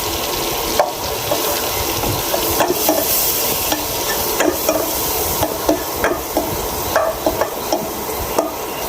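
A spoon stirs melted butter and palm flour together in a pan for pasta, with soft sizzling and a steady scraping texture broken by light clinks and taps against the pan.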